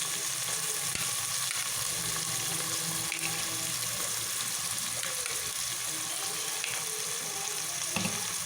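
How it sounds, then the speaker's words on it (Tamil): Chopped onions sauté in a pan with a continuous low sizzle while a ladle stirs them now and then, producing occasional scrapes; fairly quiet and close, with no voices. "கரண்டியால் நல்லா வதக்கி எடுத்துக்கோங்க"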